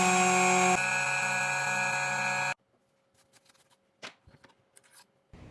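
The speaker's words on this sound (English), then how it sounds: "Install the key and cut the groove." A Tank 2 Pro key duplicating machine cuts a groove into a key blank, giving a loud, steady whining hum for about two and a half seconds before stopping, followed by scattered quiet clicks and small handling taps.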